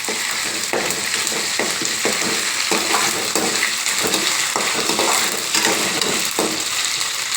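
Ingredients for egg fried rice frying steadily in hot oil, a continuous loud sizzle with repeated scrapes and clinks of a utensil stirring the pan.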